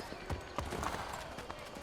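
Horse hooves trot at a steady clip-clop along a town street in Assassin's Creed 3 Remastered, fairly close, with low voices mixed in beneath the footfalls.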